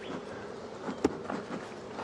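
Honeybees hum around an opened hive during beekeeping work on nucleus colonies, a soft, steady drone close by, broken by one sharp knock partway through.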